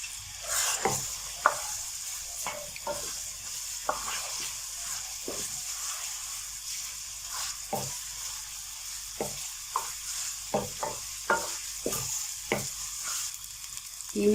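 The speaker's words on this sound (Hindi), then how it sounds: "थोड़ी सी फ्लेम तेज़ कर देते हैं ताकि कीमे की अच्छे से भुनाई हो सके।" Minced meat (keema) fries over a high flame in a pan, a constant close sizzle broken by repeated sharp scraping strokes of stirring at an irregular rhythm.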